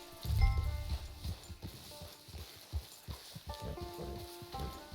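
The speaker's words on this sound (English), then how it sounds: "Hitch your horse." Horse hooves clop in a steady walking rhythm in the video game Red Dead Online, with a louder thump early on and soft music tones running underneath.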